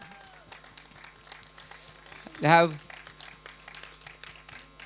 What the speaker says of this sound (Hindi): अजय देवगन साहब के लिए बहुत सारी तालियां